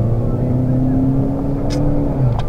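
A 2017 Honda Civic Sport accelerates in Sport mode, its engine holding a loud, steady drone from inside the cabin with rising tone, continuous and close throughout.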